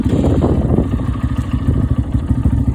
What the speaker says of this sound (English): So I'm gonna fire it up and I'm gonna take off here again.